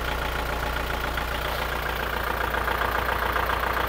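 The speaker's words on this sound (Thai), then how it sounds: "เสียงเครื่องปกตินะครับ" A Kubota L5018SP tractor's diesel engine idles in a steady, even low chug, loud and close throughout with no other sounds.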